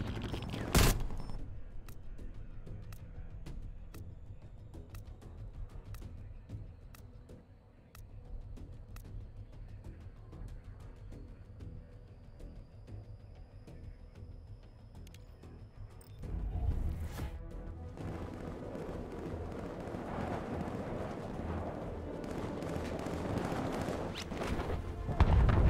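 Artillery strikes pound the ground in Call of Duty Cold War on PS5, distant thuds and crashes scattered over low battlefield noise, with a heavier barrage swelling near the end.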